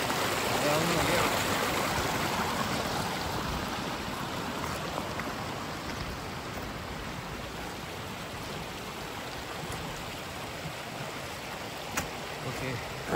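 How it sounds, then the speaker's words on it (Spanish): A mountain stream flows downhill through a narrow, steep-sided gorge, giving a steady, broad rush of water that stays close and even throughout with no voices. "Este río, río abajo, allá donde nos lleva."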